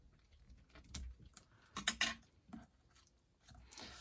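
Scissors snip through stamped paper pieces for a scrapbook layout kit, a few quiet, separate cuts with faint rustling and handling of paper in between, close and soft, with no voices.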